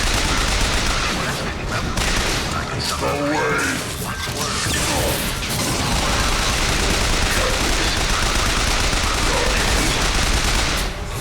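Rapid bursts of gunfire and crashing impacts fill Bioshock Infinite combat, dense and loud, with voices talking over the shooting.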